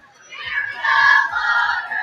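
Darrington Loggers high school football fans cheer at a distance during a night game. The crowd noise swells and holds as a broad, muffled roar, with a few faint low thumps underneath.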